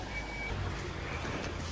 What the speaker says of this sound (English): Yup, it comes in a lorry.